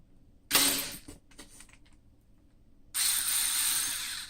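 A power drill widens a Koss KSC75 headphone headband in two bursts of high, whirring spin, a short one with brief stutters and then a longer steady run, close and fairly loud.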